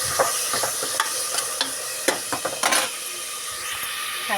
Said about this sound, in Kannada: ಇದು ನೋಡ್ರಿ, ಈಗ ಒಗ್ಗರಣೆ ಹಾಕೀನಿ